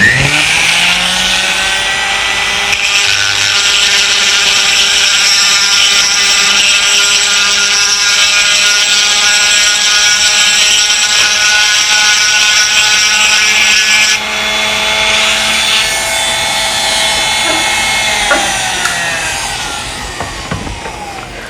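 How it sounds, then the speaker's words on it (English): A small round grinding stone on a high-speed rotary tool bevels a hole in a gun part, a loud, continuous shrill whine with a pitch dip partway through, close up and without talk. "we're going to reach in here and just bevel the hole"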